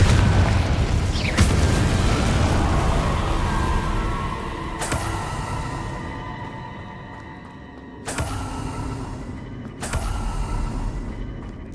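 Blasting spell explosions in the Hogwarts Legacy video game, a loud boom followed by rumbling, then two more sharp bursts that crack and fade amid game effects.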